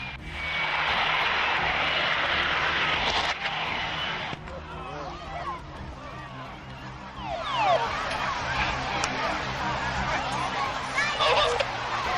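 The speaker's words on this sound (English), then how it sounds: "The Harrier jumped jet ditches into the sea at Lowestoft Air Festival, 2002." A Harrier jump jet engine roars loud and continuous at the 2002 Lowestoft Air Festival by the sea, with a sustained howling whine that rises and falls over crowd and wind noise.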